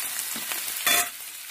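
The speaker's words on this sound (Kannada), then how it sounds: "ಈಗ ಟೊಮೊಟೊ ಹಾಕ್ತಾ ಇದ್ದೀನಿ" Chopped tomato dropped into a hot oil tempering for okra lemon-style rice, giving a close, loud hiss that swells sharply for a moment and then settles back into a steady sizzle.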